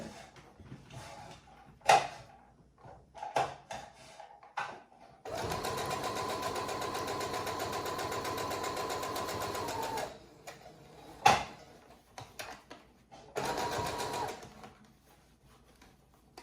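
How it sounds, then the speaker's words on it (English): A sewing machine top-stitches around a breathable fabric face mask in one long steady run of about five seconds, then a shorter burst later. Soft clicks and fabric handling fill the quiet gaps between runs. "I'm going to go all the way around, put a top stitch on it"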